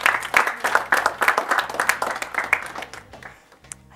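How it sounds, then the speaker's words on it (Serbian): An audience claps in a dense, close round of applause that starts strong and gradually thins out toward the end. "veliki aplauz"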